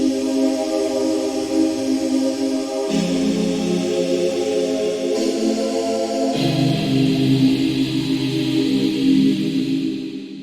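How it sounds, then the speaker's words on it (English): A sustained, lush synthesizer pad made in Serum, holding rich layered chords that shift a few times, smooth and continuous without gaps or voices. "So this is what I call a cool pad sound."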